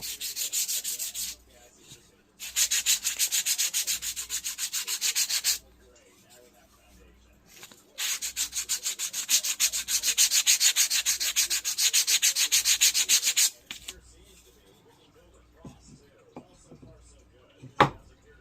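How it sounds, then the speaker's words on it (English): Sandpaper rubs back and forth over a wooden art stand in close, rapid scratchy strokes, coming in several bursts separated by brief pauses, with a few light knocks near the end. "after you sand it with this, it is perfectly smooth"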